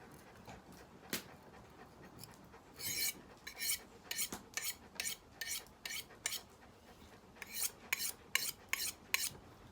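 A knife is sharpened on a DC4 stone, giving a rapid series of short, bright scraping strokes. The strokes come in quick irregular bursts, close and fairly faint, with no voices.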